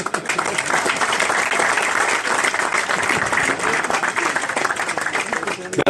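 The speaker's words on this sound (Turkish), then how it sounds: "aramızdaki en yaşlı seyahat acentası olan Hüseyin Kurtoğulları'na da ayrıca bir alkış istiyoruz" Sustained, dense applause from an audience at a SKAL İstanbul club gathering with travel agency members, steady and loud throughout.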